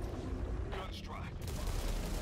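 Gunfire from a Gun Strike in a shooter video game, a dense continuous barrage of blasts and booms lasting throughout, loud and close, with game noise and voices mixed in.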